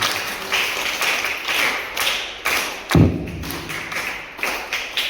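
An audience at a religious gathering claps in loud, rhythmic bursts, with one heavier thump in the middle and no voices over it.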